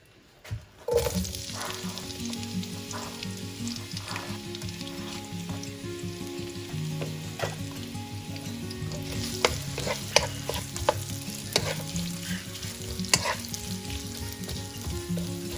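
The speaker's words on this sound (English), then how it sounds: "The oil is hot, and to this I'm now going to add the onions to fry them." Onions sizzle and crackle in hot oil in a pan for a Chettinad chicken curry, a steady close frying hiss broken by scattered clicks and scrapes of stirring. No one speaks.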